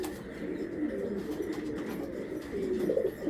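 Pigeons in a loft keep up a continuous soft cooing that swells a little toward the end, with no voices.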